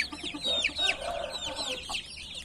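Chicks and young chickens, including the offspring of a speckled rooster, cheep and cluck nearby in quick high peeps and short soft clucks, several birds calling over each other.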